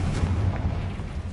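A Confringo explosion spell going off in Hogwarts Legacy, a short deep booming blast with a rumbling low end that fades over a second or so.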